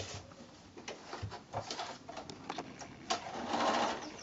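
Sewing machine running a seam on a patchwork quilt block, its rapid mechanical stitching whirring steadily at close range and quickening near the end, with no talking over it.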